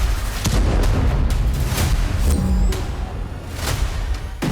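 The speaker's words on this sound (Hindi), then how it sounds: "सीसीटीवी में एक के बाद एक धमाके नजर आ रहे हैं।" Rockets explode in loud booming blasts one after another on CCTV in Haifa, with heavy rumbling and crackling between them.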